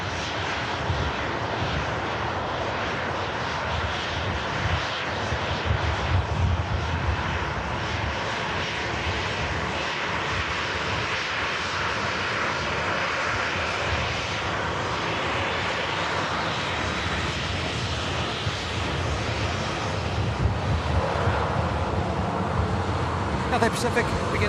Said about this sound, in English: Cathay Pacific beginning a takeoff roll, heading back home to Hong Kong.